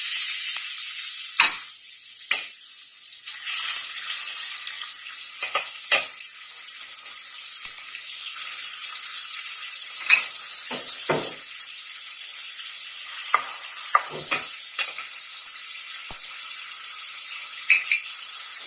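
Onion and garlic fry in a pan of oil with a continuous bright, close sizzle, dotted with scattered pops and light clinks of a utensil against the pan, and no voices.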